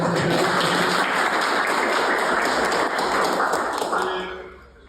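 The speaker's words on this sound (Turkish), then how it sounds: "Bir alkış yapıyor arkadaşlar" Audience applause at a street-naming gathering, a dense burst of clapping from many people held steady for several seconds, then fading out at the end.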